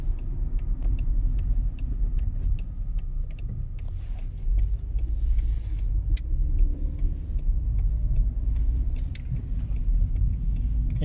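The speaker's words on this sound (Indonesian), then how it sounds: "Masih ada bus yang lewat." A bus passes along a city street at night during a curfew in the Netherlands, its steady low engine rumble and road noise filling the scene with no talk.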